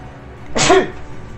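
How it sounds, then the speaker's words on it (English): A single sharp, loud sneeze bursts out near the middle, brief and close, with quiet before and after. "As I sneeze all my papers across the table."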